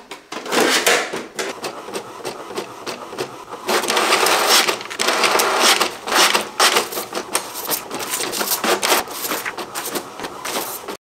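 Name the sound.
printer printing pages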